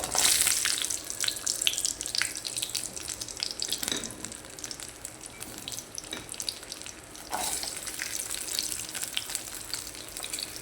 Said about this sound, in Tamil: உளுந்து போட்டுட்டு பூண்டு போட்டுடலாங்க